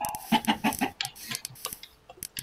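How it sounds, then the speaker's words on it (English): Chickens cluck in Minecraft, a quick run of short clucks at first, then scattered lighter clucks and blocky game clicks, close and clear with no talking. "Chicken! Oh, four chickens."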